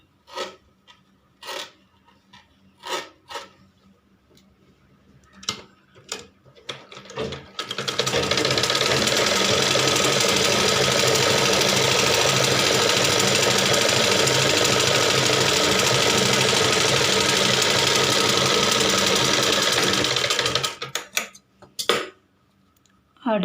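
A sewing machine runs a continuous edge seam along a blouse's back fabric for about thirteen seconds, loud and steady, framed by brief clicks and handling sounds before and after.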